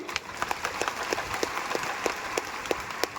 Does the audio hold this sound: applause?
yes